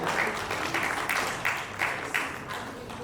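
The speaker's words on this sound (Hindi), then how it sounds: "जोरदार तालियां उनके लिए" An audience at a cricket tournament launch event claps in a sustained round of applause, with a series of rhythmic swells recurring over a steady patter, heard alone without talking.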